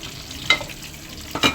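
Oil heats in a pan for sautéing pechay, with two short close bursts of sizzling and scraping over a quiet background hiss.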